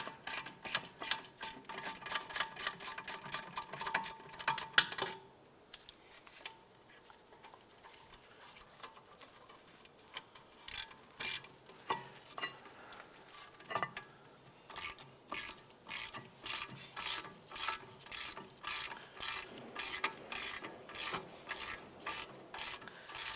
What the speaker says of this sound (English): loosen and remove this bolt